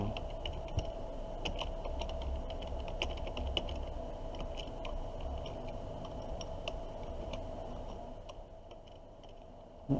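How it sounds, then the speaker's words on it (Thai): A course name is typed on a computer keyboard while setting up a new class in Google Classroom, producing a steady run of quick, light key clicks close to the microphone that taper off near the end. "นะก็คลิกว่า สร้างชั้นเรียน เราก็พิมพ์ชื่อวิชา"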